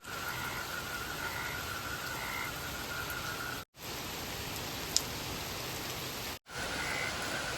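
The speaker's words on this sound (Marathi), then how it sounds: "लिटरली एकदम बेकार पाऊस चालू आहे" Heavy monsoon rain pours without letup, a dense, loud, even hiss broken only by two very brief cutouts, with no voices heard over it.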